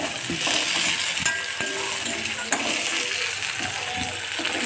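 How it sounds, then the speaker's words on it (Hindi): Onion and capsicum fry in a kadai, giving a steady, close sizzle throughout with occasional light metallic clinks and scrapes from stirring. "वो हम इसमें डाल के इसको अच्छे से हम भून लेंगे।"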